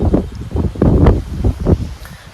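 Strong gusts of wind ahead of a storm buffet the microphone in loud, rumbling bursts that rise and fall, with a faint rustle between them.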